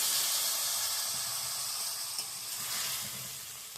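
Ground cumin paste sizzles steadily in a hot pan of oil for khichuri, a bright continuous frying hiss close up, fading slightly toward the end with no voices.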